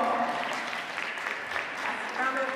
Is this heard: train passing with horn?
no